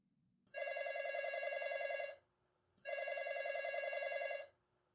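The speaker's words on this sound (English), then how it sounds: "the phone rings" A telephone bell rings twice in a radio drama, clear, even bursts with a short pause between, close and loud against a quiet room.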